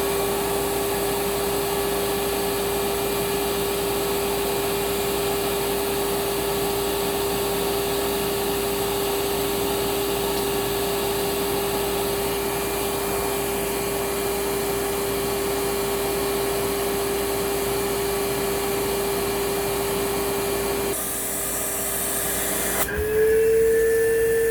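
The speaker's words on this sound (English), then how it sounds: "At the end of the hose with a 35 to 32 millimeter adapter in place." Advance Spectrum 12P vacuum cleaner running with a 35 to 32 millimeter adapter at the hose end: a loud, steady whining drone with airy hiss, shifting pitch near the end as the airflow changes.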